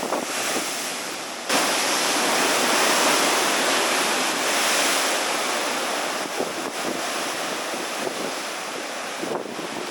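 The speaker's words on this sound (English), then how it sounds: "The waves here are massive, which is really cool to see them crashing against this lava rock." Big ocean waves crash against sharp lava rock along a Puerto Rico shoreline, a loud, continuous roar of surf with strong wind buffeting the microphone and a brief lull near the start.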